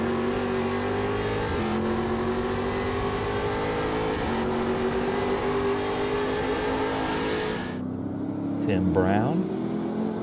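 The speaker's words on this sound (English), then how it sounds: "You hearing him hit the limiter?" A Trans Am race car at Portland International Raceway holds a loud, high, steady engine drone at sustained revs, which cuts off abruptly near the end, with a commentator talking over the sound.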